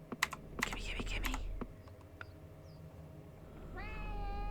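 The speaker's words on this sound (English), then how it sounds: "We have a new cat." A newly arrived cat gives a clear, drawn-out meow near the end, preceded by quick clicking keyboard typing and soft background noise indoors.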